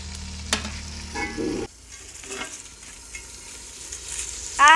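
Chicken fries and sizzles in ghee in a pan during home-style desi chicken cooking, a steady hiss broken by stirring and clanking of a utensil, close and fairly quiet with no talking.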